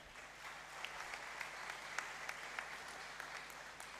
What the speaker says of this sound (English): Please shall we clap for them once again.